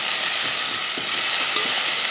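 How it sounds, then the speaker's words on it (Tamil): Shallots and garlic sautéing in oil in a pan for a Tamil-style fish curry, giving a steady close sizzle with faint stirring scrapes throughout, no voices. "நல்லா வெங்காயத்தை வந்து நல்லா வதக்கி விட்ருவோம்."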